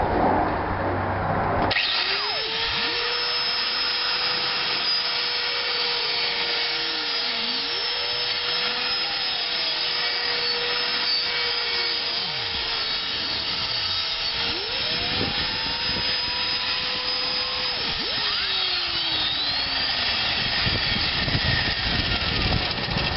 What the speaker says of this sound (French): Un petit coup de meule d'angle pour les bavures.